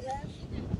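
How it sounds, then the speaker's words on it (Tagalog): Strong wind buffets a microphone on a beach on Jeju Island, a rough, continuous low rumble filling the short moment at close range. "Wala, grabe yung hangin."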